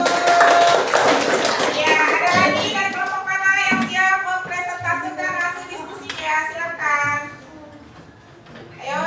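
A classroom gives a student group a short burst of applause that fades quickly, with children's voices and a teacher talking over and after it.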